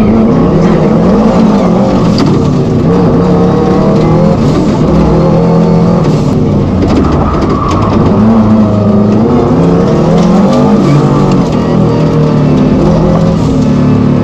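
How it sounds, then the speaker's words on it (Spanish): A race car with power problems and a recently repaired driveshaft runs its engine hard while trying to do donuts. The engine roars loudly and continuously with revving surges, and no one speaks. "era poder probar si el coche ya podía hacer donuts"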